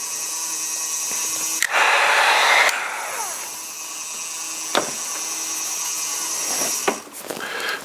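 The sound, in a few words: heat gun drying pottery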